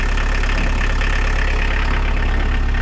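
T25 van fitted with a swapped 1900 engine running close by, a steady, loud low rumble with even mechanical pulsing and no talk over it.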